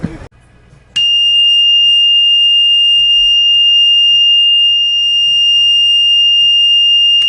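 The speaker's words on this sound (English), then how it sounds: "So we have an alarm going off at night with the bilge pump." A bilge pump alarm on a sailboat at night sounds a loud, steady high-pitched electronic tone that starts abruptly after a brief quiet moment and holds without a break.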